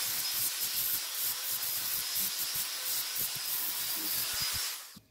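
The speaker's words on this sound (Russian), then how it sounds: "Обычная вот эта шкурка, с которой шло. Берешь и эти заусенчики зачищаешь." Sandpaper rubbed by hand over metal to clean off burrs, a close, steady scratchy rasp in short repeated strokes that fades out at the end, with no talking.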